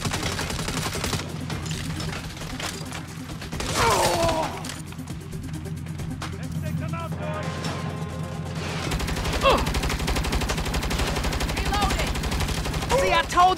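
Turret gunfire in the Saints Row video game, sustained rapid shooting with heavy booms and crashing impacts, loud and continuous throughout, mixed with game sound.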